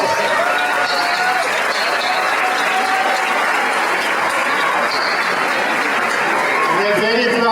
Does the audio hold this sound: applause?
yes